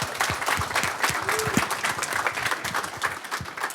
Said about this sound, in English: Let's give one more round of applause for the great panel and moderation